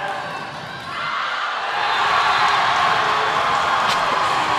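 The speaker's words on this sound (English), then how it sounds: "the crowd is cheering quite loudly as Seattle Pacific just missed that serve on possible match point for them" Loud crowd cheering at a college volleyball match between Simon Fraser and Seattle Pacific in a gym, a dense sustained roar that swells after the first second and stays strong, with whoops over it.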